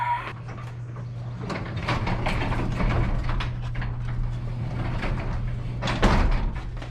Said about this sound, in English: Now we're going to close the door.